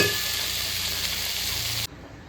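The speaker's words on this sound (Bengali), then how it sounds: "চিংড়ি মাছগুলো ভেজে নামিয়ে নিয়েছি" Shrimp fry in a pan with a loud, steady hiss of oil that runs close and constant, then cuts off abruptly near the end, leaving quiet.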